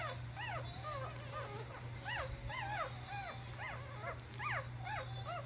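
Young puppies whimper and yip in quick rising-and-falling squeals, many overlapping calls close at hand as their mother returns from a short break, with a steady low hum underneath.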